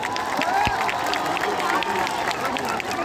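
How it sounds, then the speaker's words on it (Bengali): A concert crowd at a live outdoor program at Lalbagh Astabal Moidan erupts in loud, dense applause and cheering, with clapping and shouting blended together and continuing steadily throughout. "জোরে হাততালি হয়ে যাক।"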